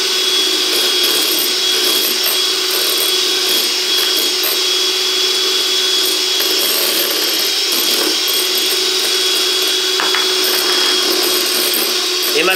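Electric mixer whipping egg whites with powdered sugar for chocolate mousse: a loud, steady whirring motor drone running unbroken for the whole stretch, with no talk over it.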